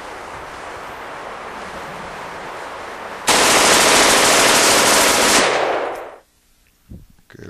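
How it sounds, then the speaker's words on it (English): Fully automatic gunfire bursts out at an outdoor live-fire range, a loud sustained roar of rapid shots lasting about three seconds over wind noise, then cutting off to near silence. "shooter, get yourself ready, and at your command, commence fire."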